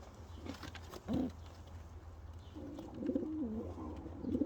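Pigeons coo softly nearby, with one rolling coo early on and a longer series of low throaty coos later over a quiet background.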